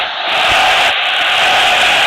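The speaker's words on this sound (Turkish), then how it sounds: "Çizgide kale vuruşu kazandıkları için alkış alıyorlar" Dense, steady roar of a football stadium crowd, loud and unbroken for a couple of seconds, with a broad wash of cheering and applause.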